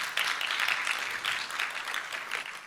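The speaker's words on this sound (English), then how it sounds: "So please give them a hand." An audience at a Mother Easwaramma Day program gives a brief burst of dense, steady clapping that holds at an even level throughout.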